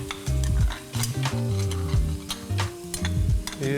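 Bay leaf and cinnamon sizzling in hot oil for egg malai curry, a loud crackling sizzle with rhythmic stirring scrapes against the pan and quick clicks throughout.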